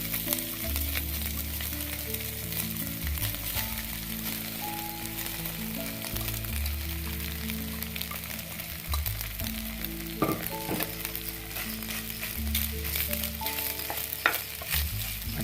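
Vegetable schezwan fried rice is stirred in a hot pan, giving a continuous crackling sizzle with occasional scraping clanks of the spatula, while steady background music plays under it.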